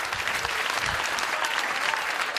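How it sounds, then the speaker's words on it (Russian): Studio audience applauding a comedy sketch performance, steady dense clapping throughout, fairly close and even, with no talk over it. "Ваши аплодисменты, пожалуйста."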